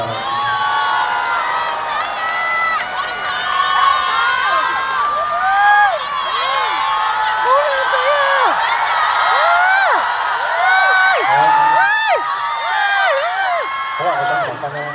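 The audience at a live tour concert in Macau cheers, with many high-pitched screams, whoops and shouts, plus some applause, continuing loudly throughout.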